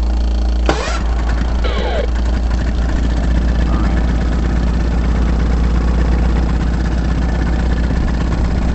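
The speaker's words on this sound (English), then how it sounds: "That's our noisy ass fuel pump." A noisy fuel pump hums steadily inside a boat cockpit, a constant engine-like drone running loud and unbroken throughout, with a brief sharp knock near the start.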